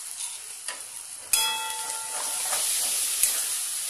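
A paste of yogurt and ground nuts hits a hot pan for Mughlai chicken with a sharp clatter, then a steady close sizzle of frying with a few light clinks of stirring.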